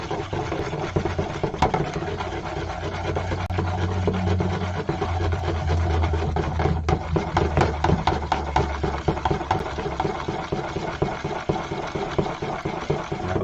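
Track ballast being stirred in a jug with a screwdriver, a continuous gritty rattling and scraping of small stones against the container, close and steady, with no talk.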